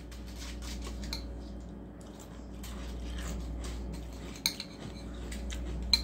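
A spoon clinks and scrapes against a bowl while stirring Frosted Flakes Strawberry Milkshake cereal in milk, light metallic taps over a low steady hum, with a couple of sharper clinks near the end.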